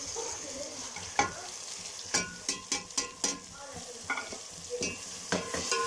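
Spices tipped into fried onions in a pan for chicken qorma, a close, quiet sizzle broken by a series of sharp spoon scrapes and clicks against the pan, with no talking.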